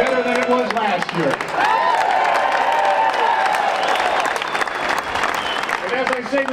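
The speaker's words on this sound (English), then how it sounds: "And look at this crowd today." A Tax Day Tea Party political rally crowd cheering and applauding, with loud sustained clapping and raised, whooping voices swelling through the middle.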